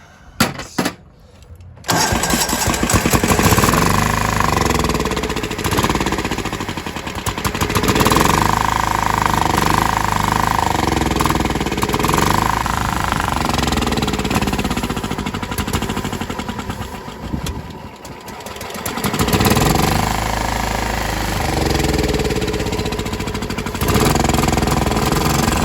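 An abandoned lawn mower engine, primed with starting fluid, coughs briefly, then catches and runs loudly and roughly for a long stretch, its rapid chugging dipping and surging with a couple of brief stumbles.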